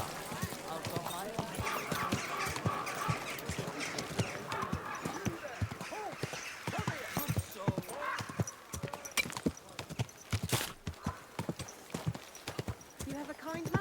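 Horse hooves clip-clop steadily on the ground in the medieval video game Kingdom Come Deliverance 2, a close, uneven rhythm of hoofbeats with occasional snorts while people talk over it.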